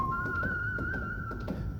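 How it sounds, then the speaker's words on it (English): A character whistles a short, thin, steady tune in a Star Trek: Starfleet Academy teaser, a faint single melodic line over soft background sound. "is Paul Giamatti's character actually whistling that tune"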